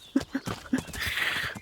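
Horse hooves clop several times in quick succession in Kingdom Come Deliverance, followed by a brief breathy, snorting rustle, close and moderately loud.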